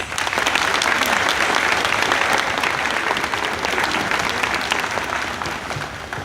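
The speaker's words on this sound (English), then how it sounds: "Give them all a round of applause." Audience at a fifth grade promotion ceremony applauds in a steady, loud, dense wash of many hands clapping that carries on without a break.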